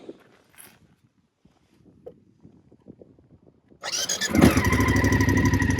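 A BMW F750GS or F850GS motorcycle fitted with Denali LED lights cranks briefly with the starter, then the engine catches and settles into a loud, steady idle close by after a few seconds of quiet.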